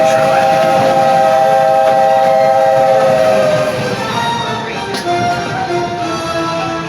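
The Walt Disney World Railroad steam train sounds a loud, sustained whistle close by, over the rumble of rolling wagons, and the whistle fades into lighter chuffing and mechanical noise.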